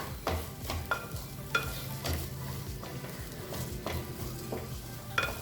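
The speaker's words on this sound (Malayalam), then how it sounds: "മീഡിയം ഫ്ലെയിമിൽ വെച്ചിട്ട് ഒരു 2-3 മിനിറ്റ് ഒന്ന് നമ്മുടെ അരി ഫ്രൈ ചെയ്ത് കൊടുക്കാം." Rice for Malabar coconut rice stirred and scraped in a hot pan over medium flame, with a steady low sizzle and repeated spoon scrapes at an irregular rhythm, close and moderately loud, no talking.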